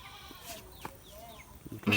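Faint calls from a baby Ram goat kid on a farm, a few thin bleats scattered over low background noise, with a louder burst near the end.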